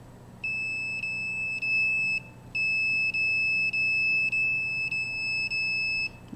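Repeated electronic beeps from a radiation detector held near a cell phone as Twitter opens, about nine evenly spaced tones in two runs with a brief gap, loud and steady over a faint background hum.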